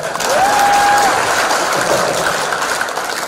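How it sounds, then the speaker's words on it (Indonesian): An audience claps for a comedian, Cak Lontong, at a live event with Ibu Susi, a steady wash of applause across the whole stretch with a brief whistle-like tone near the start. "Tepuk tangan buat saya."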